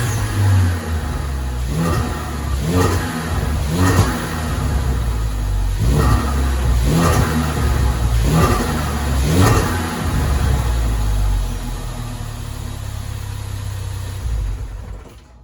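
A Ford Focus RS engine fitted with a GFB DV+ recirculation valve revs repeatedly, with rhythmic bursts of boost flutter roughly once a second, loud and close, before settling toward idle.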